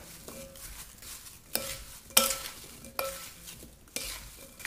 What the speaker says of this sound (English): Just gonna grab a spoon and stir this all together.